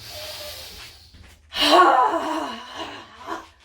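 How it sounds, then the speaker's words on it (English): Deep yoga breaths, a soft inhale through the nose followed by a longer, louder exhale through the mouth, close and unaccompanied by talk. "So we'll just do about 3 more big inhales through the nose, exhales through the mouth."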